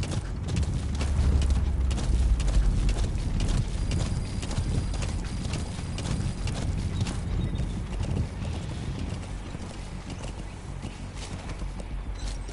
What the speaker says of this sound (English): How do I make the horse go?